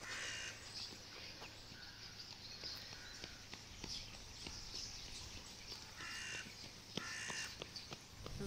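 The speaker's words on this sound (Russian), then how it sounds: "Ворона и сорока." Crows caw repeatedly in short bursts near the sea, moderately distant over steady outdoor background noise, with a few soft footsteps.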